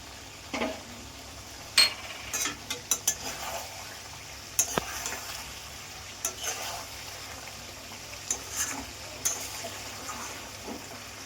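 Chicken kosha with soy sauce being stirred in a pan, scattered spatula scrapes and metallic clinks over a soft low sizzle, close and intermittent, without speech.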